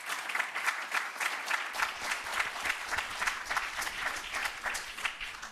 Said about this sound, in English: I'd like to give you a big round of applause to our panelists